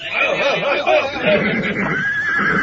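A horse whinnies in a high, wavering call, with other whinnying calls across a battle-drama scene as riders are told to ready their mounts; the calls are loud, close and fill the whole stretch, with no talk.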